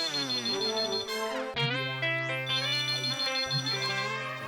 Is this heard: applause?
no